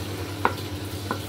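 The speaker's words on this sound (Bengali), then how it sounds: "এখন আমি এই পেঁয়াজ বাটাটা দিয়ে আবার কতক্ষণ নাড়াচাড়া করব" Onion paste being stir-fried in a pan for chicken rezala, with a low steady sizzle and two brief stirring scrapes, heard alone.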